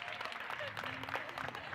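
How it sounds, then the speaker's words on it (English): Audience applauding parents at a school gathering, a moderate patter of many hands heard somewhat distantly, mixed with a speaking voice carrying over the clapping. "let's give parents a big round of applause"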